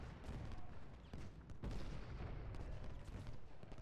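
Musketry and artillery fire in Ultimate General: Gettysburg form a continuous crackle of rifle volleys, with sharper booming cannon shots standing out through a steady wall of battle noise.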